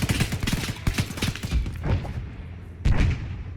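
Heavy gunfire in the military video game Arma 3, rapid overlapping shots and thumping impacts that crowd the first seconds, ease off, then return in a loud fresh burst near the end.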